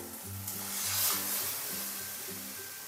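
Boiled chana dal tipped into fried spice masala sizzles steadily in the pan, with rhythmic scraping strokes of a spoon stirring it close up.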